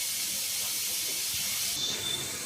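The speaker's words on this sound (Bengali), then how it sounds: "এখন এইভাবে সবগুলো বুন্দি আমি ভেজে নিব।" Boondi batter drops fry in hot oil for a bundiya sweet, making a continuous soft hiss close by that brightens slightly toward the end.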